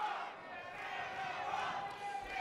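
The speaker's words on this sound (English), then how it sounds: "The crowd calling for a stand-up." An MMA crowd in an arena keeps up a faint, steady roar of calls for the fighters to stand up during a ground exchange, distant and continuous with no distinct peaks.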